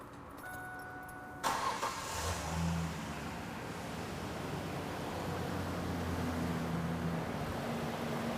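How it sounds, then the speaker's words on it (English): A car engine cranks and catches after a quiet stretch, then settles into a steady idle during fuel system testing with a fuel tool hooked up, heard close and alone. "I'm going to start the vehicle."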